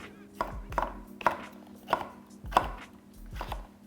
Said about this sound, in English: Just gonna cut all this into chunks.